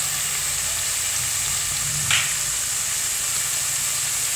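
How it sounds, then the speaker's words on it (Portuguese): French fries frying in boiling oil, a steady dense sizzle and hiss throughout, close and loud, with a brief bubbling flare midway. "Estamos aqui na luta, fazendo batata frita."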